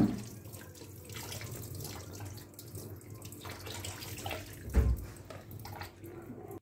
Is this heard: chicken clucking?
no